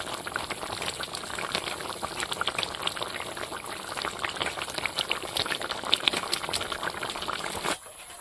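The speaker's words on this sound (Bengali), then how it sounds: "এবার ঝোলটা ভালো করে ফুটিয়ে নেবো।" Red fish curry broth of kan magur fish bubbles hard in a pot, a dense, steady burbling hiss close up that stops abruptly near the end, with no voices.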